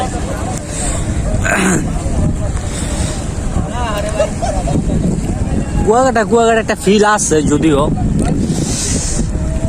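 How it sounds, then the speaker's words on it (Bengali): Strong wind buffeting the microphone with a constant roar, while people talk over it on the bank of the Padma River at Mawa ferry ghat. "ওদিক থেকে বাতাসটা এরকমের আসছে"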